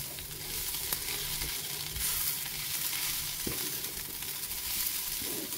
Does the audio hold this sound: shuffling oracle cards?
no